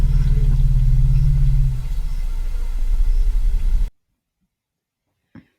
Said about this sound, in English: Low frequency rumbles will travel along the ground through Rayleigh waves